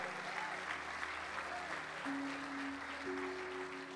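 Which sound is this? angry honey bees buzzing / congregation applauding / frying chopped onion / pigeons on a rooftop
congregation applauding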